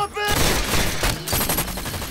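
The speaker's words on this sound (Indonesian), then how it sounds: "baku tembak pun terjadi" A loud, dense fusillade of gunfire in a film shootout, with rapid overlapping shots rattling on continuously throughout.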